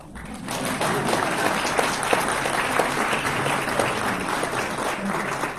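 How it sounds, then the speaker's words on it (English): A church congregation at a celebration-of-life service breaks into sustained applause, steady dense clapping filling the room for several seconds. "It's okay to applaud."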